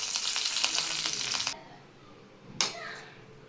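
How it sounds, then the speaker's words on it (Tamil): Mustard seeds, cumin and urad dal hit hot oil for a tempering, giving a bright, crackling sizzle. It cuts off after about a second and a half, then one short spluttering burst follows. "கடுகு கொஞ்சோண்டு தாளிப்புக்கு, சீரகம், உளுந்து கொஞ்சோண்டு. பாருங்கள், நல்லா பொரிஞ்சிச்சு."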